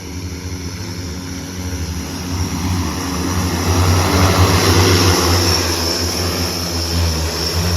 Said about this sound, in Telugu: చాలా బాగుంది డ్రోన్ అయితే ఇది ఒక ఆరు లక్షలు అంట